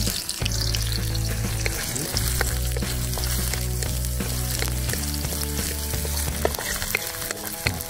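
Garlic sizzles and crackles steadily in a hot pan for pork adobo cooked outdoors, with stirring scrapes throughout.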